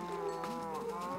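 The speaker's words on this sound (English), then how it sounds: "Die, you cow scum." A Minecraft cow lets out a single drawn-out moo, clear and close, with no talking over it.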